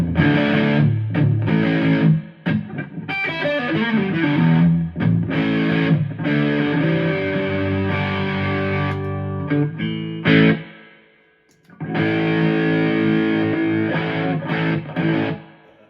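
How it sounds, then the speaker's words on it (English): Epiphone Les Paul Studio electric guitar played through heavy overdrive, loud chugging riffs and ringing chords for about ten seconds, a brief pause, then the riffing resumes; no talking. "Let's kick it even more with a bit more overdrive."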